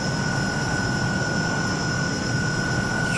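A Hawker Hunter twin-seat jet in Microsoft Flight Simulator roars with a steady, loud engine drone and a constant high whine, unbroken for the whole stretch.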